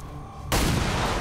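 A single loud, close gunshot in the XCOM 2 video game bursts in after a quiet humming lull, followed by a broad rumbling blast that carries through to the end.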